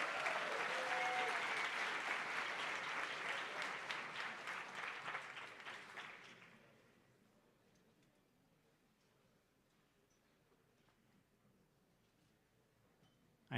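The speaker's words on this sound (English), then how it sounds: "please give a big round of applause for all 12 of our finalists one more time" A hackathon closing-ceremony audience applauds the twelve finalists: loud, dense clapping for about six seconds, then it fades away quickly into near silence.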